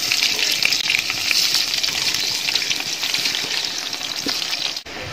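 Washed, soaked rice tossed in hot ghee for beef biryani gives a loud, steady frying hiss with scraping stir noises, and it cuts off abruptly just before the end.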